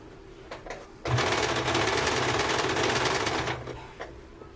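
Domestic sewing machine stitching elastic bias binding, running in one steady loud burst of about two and a half seconds between quiet handling sounds.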